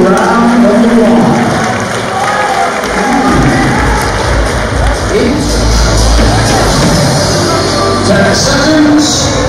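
Crowd at a bareknuckle boxing event applauding and cheering, a loud, continuous roar of clapping and shouts with voices mixed in, swelling and staying dense throughout.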